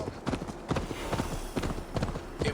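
Horse hooves gallop in Assassin's Creed Valhalla, a steady rapid clip-clop of loud, close beats running throughout with no talk over them.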